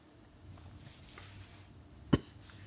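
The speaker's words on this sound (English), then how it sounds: "Man, I keep coughing" A single sharp cough stands out against quiet room noise.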